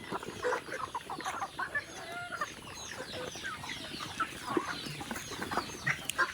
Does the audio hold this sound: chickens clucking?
yes